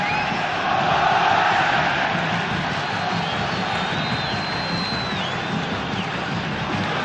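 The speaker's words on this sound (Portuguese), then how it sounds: "A torcida estava com o olé do México engasgado na garganta." Vasco supporters at a 1998 Libertadores group match against Chivas sing and roar en masse in a stadium, a sustained loud crowd din with rising chant lines and a whistle-like tone, while a commentator's voice runs underneath.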